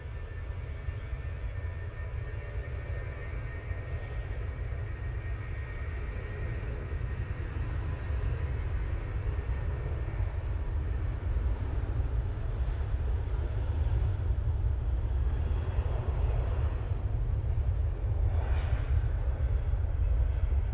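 A British Airways jet on its takeoff roll at Manchester Airport, a steady low engine roar that builds slowly and holds for the whole stretch, mid-distance, with faint talk here and there.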